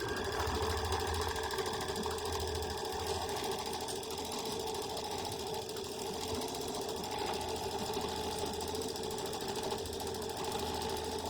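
Sewing machine running quilting stitches on a pieced fall trivet block, a steady low motor hum with fine rapid needle chatter, held for the whole stretch, faint and close, no talking.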